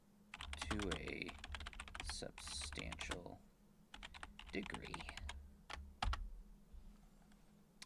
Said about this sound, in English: my keyboard's really fucking loud